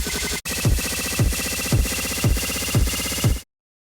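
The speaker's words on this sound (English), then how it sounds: "you can hear that that snare that was repeating, it no longer sounds like a snare, it's now an oscillator" An EDM build-up in which a fast repeating snare roll accelerates until it blurs into a pitched, buzzing tone, loud and dense with rhythmic surges, then cuts off abruptly to silence.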